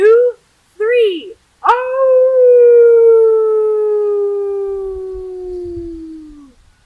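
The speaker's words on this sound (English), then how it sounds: "watch them to see how they react to the wolf suddenly howling in their living room" A recorded wolf howl plays, a couple of short rising calls and then one long, loud, steady howl that slowly falls in pitch and fades over several seconds.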